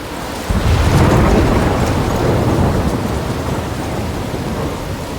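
A thunderstorm in the video game Life is Strange begins with a sudden deep rumble of thunder that swells into steady, roaring rain and wind, dense and continuous with no voices.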